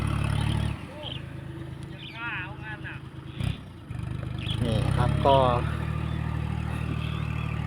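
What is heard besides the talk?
farm tractor engine tilling a field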